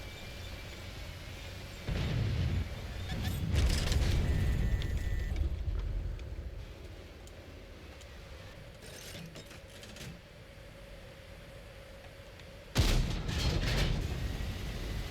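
Heavy tank cannon shots in World of Tanks on console boom out in a few loud, separate blasts at irregular intervals, each with a rumbling tail over a low mechanical background.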